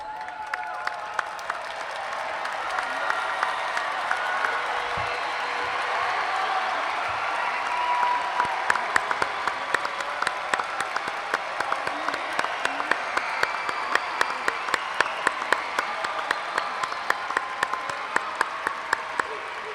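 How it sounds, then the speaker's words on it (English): Graduating high school seniors at a 2018 commencement applaud their families, a broad, sustained wash of crowd clapping that swells slightly midway and continues steadily for about twenty seconds. "Seniors, please stand, turn, and thank these special people with your applause"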